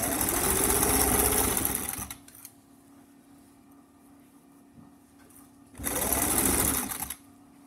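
Sewing machine stitching a jacket shoulder piece, two loud, close bursts of fast motor whir and needle clatter separated by a quiet few-second pause.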